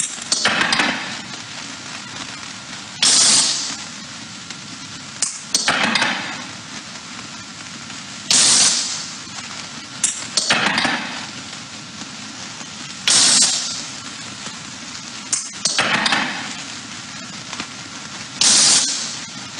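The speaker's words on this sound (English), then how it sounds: "So what you heard there was ranging chirps and telemetry" Underwater acoustic positioning signals, ranging chirps and telemetry bursts, heard as sharp broadband pulses repeating roughly every two to three seconds over a steady hissing background, loud and without voices.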